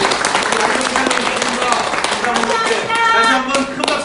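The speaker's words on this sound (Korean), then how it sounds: "여러분들 박수 한번 부탁드립니다." An audience at a political campaign office event claps together in a dense, steady patter of applause, mixed with voices talking and calling over it.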